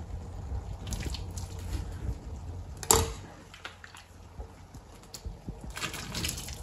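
Dirty water from boiled wild forest mushrooms poured off through a strainer, an uneven splashing trickle with a sharp clink near the middle, heard close up and alone.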